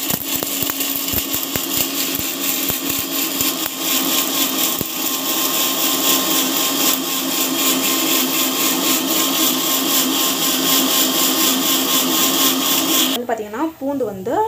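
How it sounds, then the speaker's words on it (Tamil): A kitchen mixer grinder grinds spices in a loud, continuous whirring buzz that runs steadily for about thirteen seconds, then cuts off and gives way to quieter sounds. "So what you need to do that means like நம்ம வந்து மிக்சியில் போட்டு அரைச்சிக்கலாம்."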